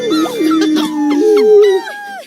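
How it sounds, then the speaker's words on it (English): Dogs howl in long, wavering, tuneful notes that slide up and down as if singing, loud and close with no other sounds. "People from all over the world are gonna come to hear these dogs sing."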